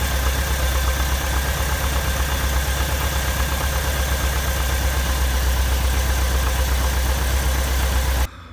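Volkswagen Vanagon engine idling, a steady close-up mid-pitched running hum with slight roughness, continuous for about eight seconds before cutting off abruptly.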